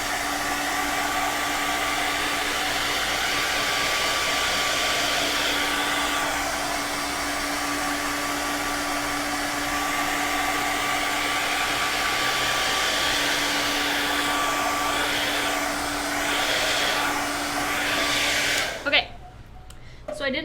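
A hair dryer drying paint on a stenciled wooden clock blows as a steady, loud whirring hum for nearly the whole stretch, then cuts off abruptly near the end.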